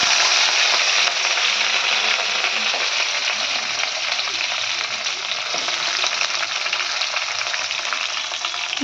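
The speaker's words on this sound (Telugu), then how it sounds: "ఇది ప్యాన్ అదే కడాయి వేడి అయిపోతుందని ఇలా అయితే నేను టమాటా ఆనియన్స్ కర్రీ వేసుకుంటున్నాను" Tomato and onion curry frying in a hot kadai, a loud, steady broadband sizzle that holds without pause from start to finish, with no voices over it.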